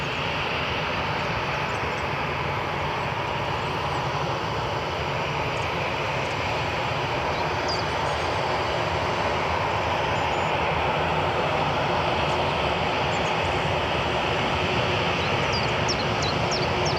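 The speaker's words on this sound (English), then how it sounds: "So we've got Ryanair on the runway." Ryanair airliners on the runway at Newcastle International Airport, a broad, steady roar of jet engines that holds constant throughout, heard from a distance, with no talking.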